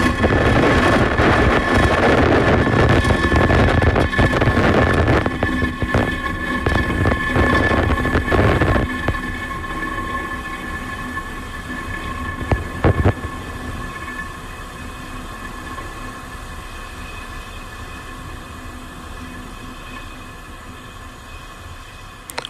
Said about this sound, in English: engines full power, and liftoff of Space Development Agency 0E